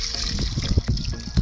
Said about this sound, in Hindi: अब मैं इसको पानी में भी डाल के दिखा देता हूँ